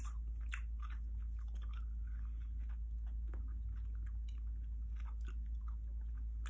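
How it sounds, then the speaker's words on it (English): Extreme sour candies chewed and crunched in the mouth, a steady run of close, quiet bites and crunches over a low constant hum. "I'm just going to throw a bunch of them in my mouth real quick."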